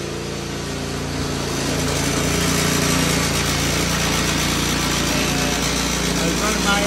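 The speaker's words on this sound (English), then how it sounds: "got Mike on the power trawl right now" Gas-powered power trowel smoothing a fresh concrete floor in a newly built farm shed, continuous loud engine drone with rotating blade hum, steady throughout.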